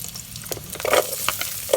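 Garlic and onion sauté together in a pan for chicken pochero, a short close sizzle broken by a few scraping stirs of a spatula, with no talk.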